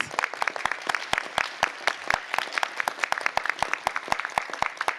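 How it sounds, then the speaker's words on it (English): Applause at a city council meeting honoring a design firm: a crowd clapping steadily for about five seconds, sharp overlapping claps close by and no one talking. "Can we give them a round of applause?"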